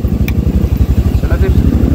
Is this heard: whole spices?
no